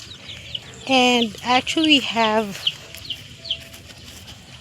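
Broiler chickens in a newly built pen cluck and squawk in a few loud, close bursts, with softer calls continuing, while a person speaks briefly over them.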